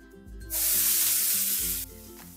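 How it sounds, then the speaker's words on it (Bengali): Chopped ginger, onion and green chilli hit a hot pan with a sudden loud sizzle that holds for about a second and a half, then drops away under soft music. "এবার দিয়ে দেব আদা, পেঁয়াজ আর কাঁচা লঙ্কা কুচি।"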